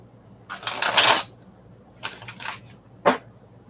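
Tarot cards are shuffled by hand in three short riffling bursts. The first is the longest and loudest, and a crisp snap follows at the end.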